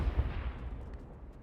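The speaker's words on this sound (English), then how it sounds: "Just explosions galore" Rumbling explosions and gunfire fill a video game battle in a competitive round, a dense low barrage with a strong early blast fading into a steady, continuous rolling din.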